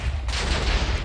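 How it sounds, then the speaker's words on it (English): A mushroom creeper from the Minecraft Titan Biomes mod blowing up in the game: a loud, dense blast with a sharp burst that rumbles on for about a second, with no voice over it. "It'll blow up while it's walking at times, and you'll be punished for killing it with more explosions."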